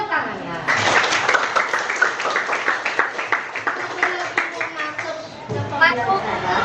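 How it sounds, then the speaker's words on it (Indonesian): Children in a classroom clap and cheer in a lively burst of applause, rapid claps overlapping with excited chatter from a group nearby. "Oke, tepuk tangannya."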